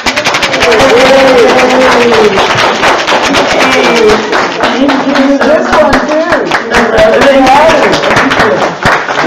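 Congregation applause at an Easter Sunday church service, a dense steady patter of clapping filling the room throughout while a voice speaks briefly over it.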